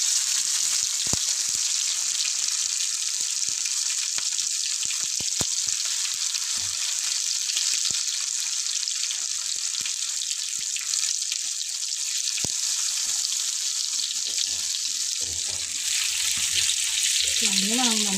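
Fish frying in masala in a home kitchen pan, giving a steady, loud sizzle that runs the whole time with small stirring knocks, and a brief voice near the end.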